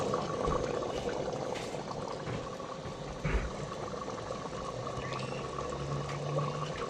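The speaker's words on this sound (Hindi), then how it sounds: "देखो दोस्तों, पानी में उबाल आ गया है।" Water boiling in a pot of aloo matar chicken on the stove, giving a steady bubbling and simmering hiss throughout, with a brief louder bubble burst in the middle.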